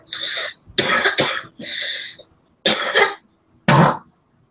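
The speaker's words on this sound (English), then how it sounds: "I'm alright there, just coughing." Several harsh coughs in separate bursts, close and fairly loud, with short silent pauses between them and no talking.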